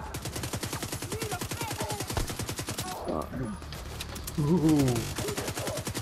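Rapid automatic gunfire in The Division 2 during an online clan match, a steady close rhythm of shots throughout, with brief voice exclamations over it.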